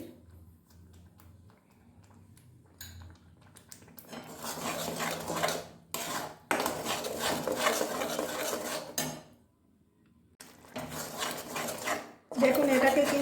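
Coriander leaf pickle scraped and stirred in a pan with a spoon, coming in several rough, scratchy bursts of a few seconds each, separated by short quiet gaps.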